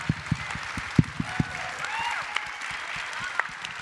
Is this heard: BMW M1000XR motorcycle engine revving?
no